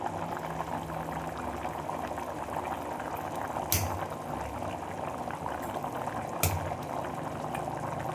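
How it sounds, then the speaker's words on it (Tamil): Egg gravy for a shredded-chicken dish boils over a high flame, a steady low bubbling rumble close by, with two brief sharper clinks partway through. "இதை நல்லா ஹை ஃப்ளேமில் வச்சு இதை நம்ம பாயில் பண்ணி குக் பண்ணணும்"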